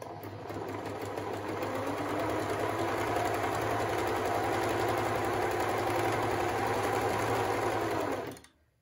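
A Pfaff Hobbymatic 907 sewing machine sewing a straight stitch runs as a steady, close, continuous motor hum with rapid needle chatter, then winds down and stops at the end.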